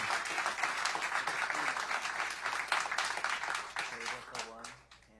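Studio audience applause at a live radio session, a steady dense clapping wash that tapers off toward the end as voices start to come through.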